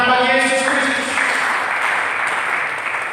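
A church congregation claps for Jesus Christ during a service, broad applause swelling over a fading sustained musical tone.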